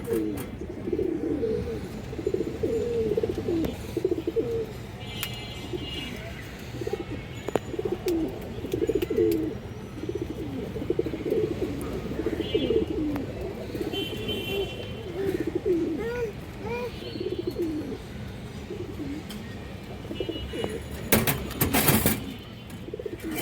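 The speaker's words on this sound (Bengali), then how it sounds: "কৌতরটা এখনও ক্রুজে আছে হালকা এখনও শেষ হয় নাই" Pigeons of fancy breeds cooing in a loft, a dense continuous chorus of overlapping soft coos and burbles at close range, with faint chirps and a brief clatter near the end.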